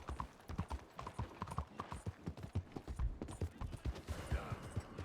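Horse hooves clip-clop steadily on ground in the Red Dead Redemption 2 video game, a brisk rhythmic trot heard close and fairly quiet, with faint tack and gear rattles mixed in and no talking.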